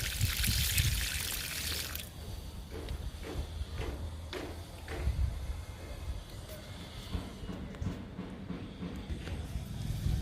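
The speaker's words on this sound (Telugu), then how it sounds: "స్పైడర్ లిల్లీకి లిక్విడ్ ఇస్తున్నాను" Homemade liquid fertilizer poured onto a spider lily plant. A burst of splashing pour opens the clip, then a quieter steady trickle and dribble continues under faint background noise.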